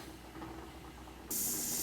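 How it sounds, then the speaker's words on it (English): Steam vents from a pressure canner while greens are being canned, a quiet low hiss that suddenly jumps into a loud, steady bright rush of escaping steam partway through. "I got a steady stream of steam coming out of there"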